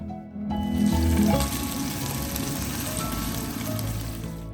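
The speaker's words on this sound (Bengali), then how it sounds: "ফার্স্টে পনিরটা একটু ভেজে নিচ্ছি তারপরে বাকিটা করব" Paneer sizzles and fries in a pan at a steady, close crackle that carries on throughout, with no talking.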